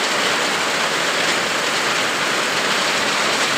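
Steady rain pours down outdoors in a rural farming area, a dense, continuous hiss of drops hitting surfaces with no pauses, fairly loud and close throughout.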